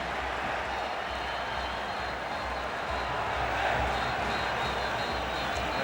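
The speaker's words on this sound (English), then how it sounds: "a couple of near misses have brought the crowd to life" A large stadium crowd at a football grand final between Sydney FC and Central Coast Mariners rises into a broad, continuous roar of cheering after near misses, with loose clapping in the distant wash of noise.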